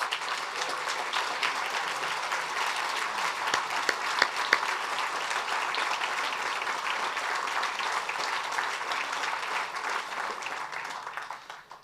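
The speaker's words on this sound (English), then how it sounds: "let's give them all one round of applause" An audience at a Republican political forum for a congressional district race breaks into sustained applause, a dense even wash of many hands clapping that holds for about ten seconds before fading out.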